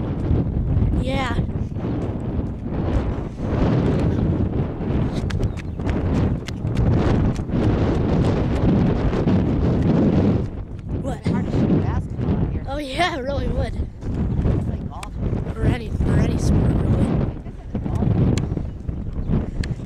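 Gusty wind buffets the microphone outdoors on an Easter walk near blossoming peach trees, a constant rumbling roar under steady nearby conversation.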